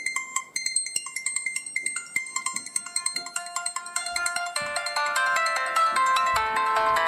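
Bright electronic ringtone melody from a Motorola RAZR V8 luxury edition phone, plinking notes in quick succession that build into a fuller, sustained tune, loud and close with no talking.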